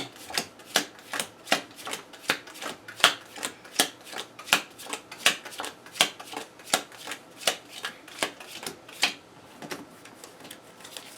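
A deck of Arkham Horror card game cards is shuffled over and over, a steady series of about twenty crisp riffles and taps at regular intervals, close and clear with no talk.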